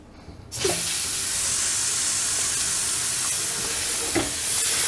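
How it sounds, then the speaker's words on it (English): Cold water from a newly installed bathroom vanity faucet: after a quiet start, a sudden strong hissing rush of running water sets in and stays steady and close, with a couple of faint clunks and no talking. "Next thing, we'll turn on the cold water."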